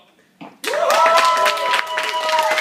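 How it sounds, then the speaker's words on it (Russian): Loud applause for a group of girls at a graduation party breaks out after a brief pause and keeps going steadily, mixed with cheering voices and shouts from the crowd. "Эти бурные аплодисменты вам."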